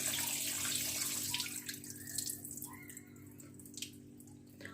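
Rice is washed and drained, giving a faint, steady run of water with soft splashing and dripping in a quiet kitchen.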